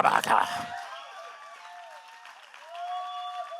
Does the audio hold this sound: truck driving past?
no